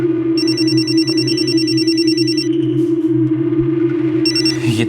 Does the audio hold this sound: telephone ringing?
yes